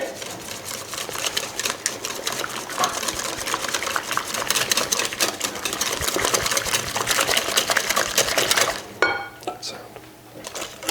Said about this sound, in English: Give that a nice whisk, all in.